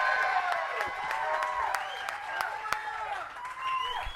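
A crowd applauds and cheers outdoors at a Hollywood Walk of Fame star unveiling for Wendy Williams, with steady clapping, sharp claps and whistle-like cheers, and voices calling out throughout.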